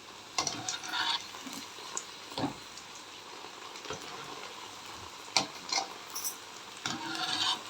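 Sweet stuffed poornam boorelu sizzle softly in hot oil while a utensil turns them over, giving several scattered scrapes and taps over a faint, steady frying hiss.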